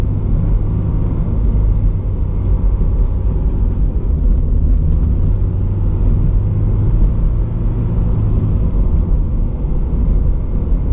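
A Subaru BRZ on all-season tires drives through snow, a loud steady engine and road rumble droning from inside the car without a break and without talk.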